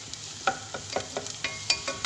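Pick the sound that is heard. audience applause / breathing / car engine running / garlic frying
garlic frying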